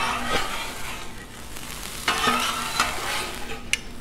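Diced jalapeños and red pepper sizzle on a Blackstone griddle in a steady close hiss, with a few sharp scrapes and taps of a metal spatula stirring them around.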